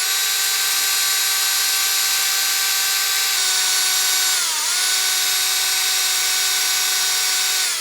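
A high, steady whine of a power drill runs continuously and loudly up close while turning a wooden wine glass, dipping briefly in pitch under load before recovering.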